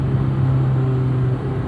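A Honda S2000 AP1 sports car engine drones steadily from inside the cabin during a night drive, with a low, constant hum and road rumble that hold even throughout.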